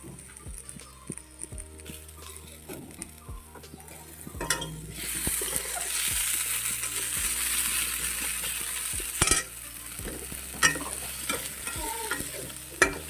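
Bean seeds sizzle steadily in a pan while a utensil scrapes and stirs in repeated strokes. Nobody speaks.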